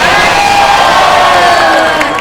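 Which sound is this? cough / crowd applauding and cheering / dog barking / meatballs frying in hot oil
crowd applauding and cheering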